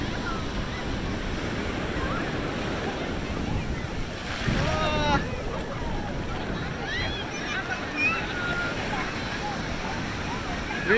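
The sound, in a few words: waves on Nellore beach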